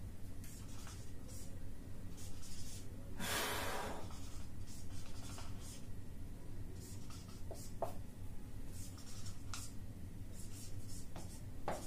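A teacher writes resistor values on a board: scratchy strokes and taps come in short bursts, with one longer rubbing stroke early on, over a steady low room hum and no talk.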